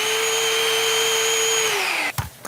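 A Kenmore cordless vacuum cleaner runs on high with a loud, steady high-pitched whine, then powers down abruptly, followed by a couple of soft knocks.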